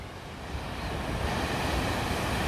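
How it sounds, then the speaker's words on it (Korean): Ocean waves surge and wash continuously nearby at the Seonnyeotang natural rock pool in Seogwipo, Jeju, a broad rushing roar swelling after the start, mixed with gusty wind noise. "파도 소리"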